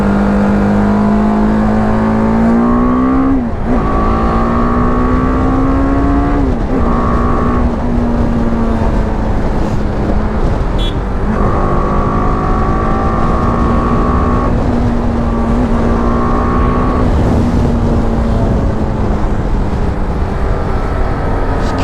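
A BMW G 310 GS motorcycle's 313cc single-cylinder engine revs repeatedly, rising in pitch with each blip and settling back to a steady drone, loud and close throughout.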